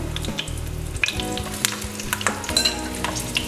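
Masala-stuffed green chillies for Hyderabadi masala hari mirch sizzle in hot oil in a pan, a steady close crackle with a few sharp pops and clinks, over a low tonal hum.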